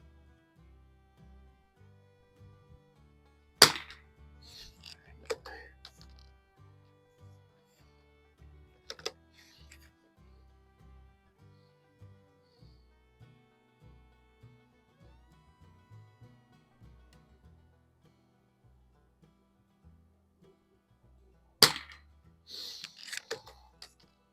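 A 1972 Anschutz Match 54 model 1407 rifle fires Geco Match ammunition at a shooting range: a few sharp, widely spaced cracks, with faint clicking and handling noises in between.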